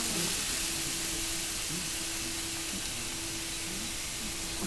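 Shallots sizzle in a hot induction frying pan, giving a steady, even hiss that holds for the whole stretch without any talk.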